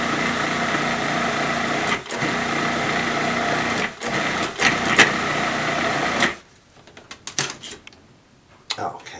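Loud continuous high-pitched whir of a food processor blending galette dough toward coarse crumbs, running about six seconds with brief dips before cutting off, followed by scattered clatter and handling knocks.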